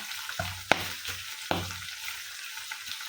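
Green chillies and curry leaves frying in hot oil in a pan for chilli pickle, a soft steady sizzle with a few sharp spoon-on-pan clinks and stirring scrapes, close and alone with no talk.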